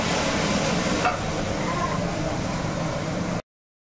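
Thin-sliced potatoes fry in a pan with a continuous close hiss and sizzle, ending abruptly into silence near the end.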